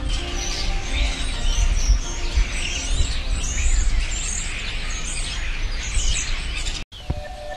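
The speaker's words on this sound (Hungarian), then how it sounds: "seregély csipogás." Starlings chirp near the seafront on the Olympus Riviera in Greece, a dense, continuous chorus of busy high calls and whistles, fairly close, with no talk, ending with a brief cut and a quieter stretch.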